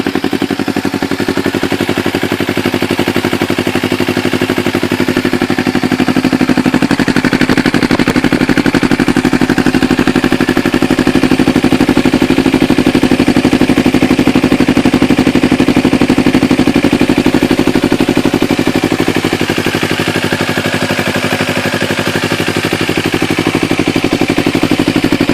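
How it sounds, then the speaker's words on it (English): A 2012 Kawasaki Ninja 250 motorcycle fitted with Leo Vince GP Corsa slip-on exhausts, running warm and idling with a loud, steady, rapid popping exhaust burble close by, alone without talk. "let's just fire this up"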